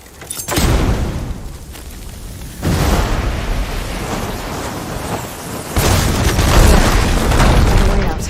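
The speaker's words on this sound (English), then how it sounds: "Hitting those blaze barrels with fire ammo should do the trick." Blaze barrels struck by fire ammo in Horizon Forbidden West explode in three heavy booms, each a loud broadband blast followed by a sustained rumbling roar, close and dominant.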